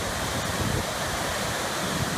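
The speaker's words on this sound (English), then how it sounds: "That is a waterfall, folks." A large waterfall near glaciers and icebergs in Alaska roars as a constant, broad wash of rushing water, loud and unbroken, with some wind against the microphone.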